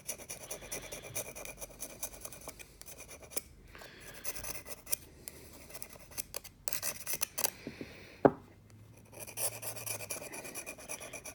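A bit from a cutter is scrubbed to remove tannin buildup, giving a steady raspy brushing and rubbing with short strokes and a few sharp scrapes, close and fairly quiet with no talk.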